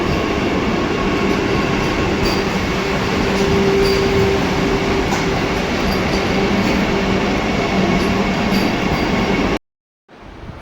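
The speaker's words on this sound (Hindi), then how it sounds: "फाइनली इतने इंतज़ार के बाद करेक्ट टाइम पर आ गई है वंदे भारत" A Vande Bharat train pulls into a station with a loud, steady rolling roar and faint wheel hum, then it cuts off abruptly near the end.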